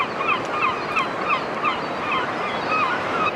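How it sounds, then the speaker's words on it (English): Seagulls call repeatedly on a beach at Whitby, a steady run of harsh cries over constant surf and wind noise. "Here we are passing the beach huts with lots of noisy seagulls around."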